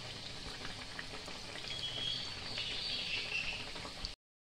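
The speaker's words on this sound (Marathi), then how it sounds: "आपल्याला हे छान मस्त लाल होस्तर तळून घ्यायचे आहे" Sabudana vada deep-frying in hot oil, a steady close hiss and bubbling that runs evenly throughout, with no one talking.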